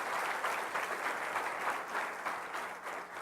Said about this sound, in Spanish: Dele un aplauso al Rey de Reyes y Señor de Señores